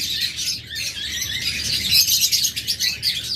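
Lovebirds and budgerigars chirp together in a busy flock, a dense, continuous stream of high tweets and squawks close by, steady and unbroken with no talk.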